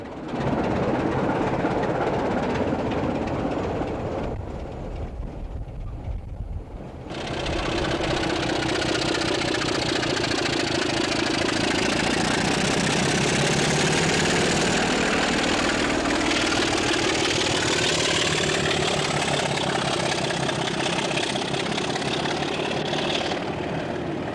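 British Rail Class 27 diesel locomotive 27055 at Edinburgh Waverley, backing onto its train: a loud, steady engine drone runs throughout, with a brief dip in the middle before the heavy throb resumes.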